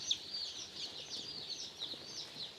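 One-day-old native chicks peep continuously in a group, a cluster of high, thin, overlapping chirps in quick irregular bursts, faint and close with no talking.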